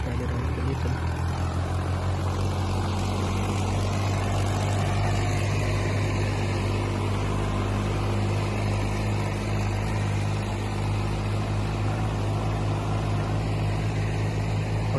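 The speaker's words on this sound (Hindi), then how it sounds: "दोनों ट्रैक्टर पहले के हाई में हैं और ये पहले राउंड के लिए चलते हैं" Two tractors, a New Holland 3630 and a Sawraj 855FE, run side by side in a speed race, their diesel engines giving a loud, steady, continuous drone with no voices over it.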